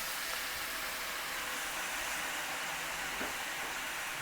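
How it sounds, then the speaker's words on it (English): Vegetable broth poured into a hot pot-roast pan to deglaze it gives a loud, steady sizzling hiss that fills the whole span without pause. "I've got a little bit of my vegetable broth. That also helps to deglaze that pan."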